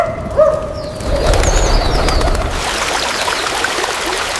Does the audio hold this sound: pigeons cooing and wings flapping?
yes